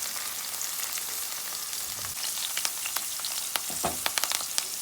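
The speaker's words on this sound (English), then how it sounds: "I like to cook out the rawness of the tomato paste" Tomato paste sizzles and fries in a pan with sautéed onion and thyme, a steady close hiss with scattered sharp pops and crackles growing more frequent toward the end, no talking.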